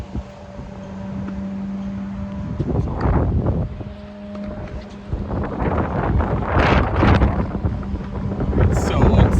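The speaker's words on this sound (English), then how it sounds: "Look at the wind." Strong, hurricane-like wind gusting outdoors by a tennis court, loud rumbling buffets hitting the microphone in surges, with a brief low mechanical hum early on and no clear talk.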